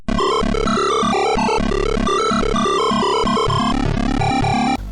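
Old PC game music beeps from the internal PC speaker as a harsh, buzzy square-wave melody with a rapid jumpy bass line. It plays continuously at a steady loud level and stops abruptly, with no voices.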